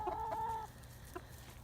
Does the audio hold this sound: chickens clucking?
yes